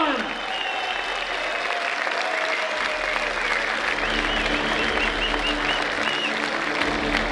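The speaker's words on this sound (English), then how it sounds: "Let's hear a big round of applause for these two warriors." A loud, sustained roar of applause fills a fight venue, where a crowd cheers two fighters after a -90 kg bout, with claps and shouts continuing unbroken throughout.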